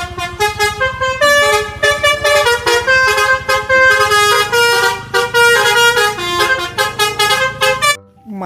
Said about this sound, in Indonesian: Lihat, ada mobil bus telolet,